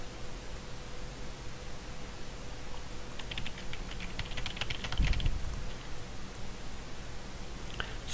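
Quiet computer keyboard typing comes in a short cluster of clicky keystrokes over a steady hiss, made while setting up screen hotkeys for a Protoss strategy game.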